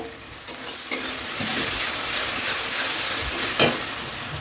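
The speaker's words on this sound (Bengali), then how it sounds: "এবার ভালো করে তেলের সঙ্গে পেঁয়াজের সঙ্গে ভেজে নেবো যাতে আদা রসুনের গন্ধটা কেটে যায়" Ginger, garlic and onion frying in hot oil in a pan, a steady close sizzle with occasional clinks and scrapes of stirring.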